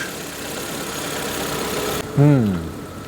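Proton Wira engine idling roughly and misfiring from a fouled spark plug, an uneven close chugging that cuts back after two seconds before a short voice is heard over it.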